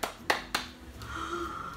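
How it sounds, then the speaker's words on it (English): Three sharp hand claps, evenly spaced and close by, followed by quieter tonal background sound from a Christmas movie playing. "Me clapping that this movie is over."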